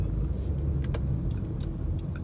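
Car driving in Los Angeles traffic, a steady low road rumble and engine drone close by, with faint ticking clicks scattered over it and no speech.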